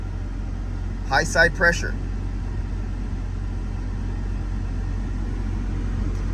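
Car engine idling around 1,000 rpm, a steady low rumble heard close under a brief spoken phrase near the start, then continuing alone.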